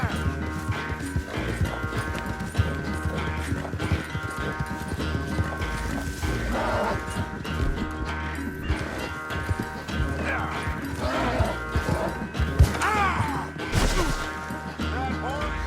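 Horse hooves clip-clopping in the Red Dead Redemption 2 video game, irregular thuds and knocks mixed with game sound and music, with a faint whinny and scattered impacts.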